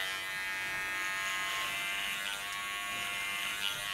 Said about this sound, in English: Hold my clipper to the back and use it as a comb